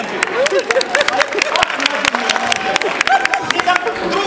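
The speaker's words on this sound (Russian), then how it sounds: "Аплодисменты" An indoor audience breaks into dense applause, many hands clapping in a busy patter close by, with voices talking and murmuring over it.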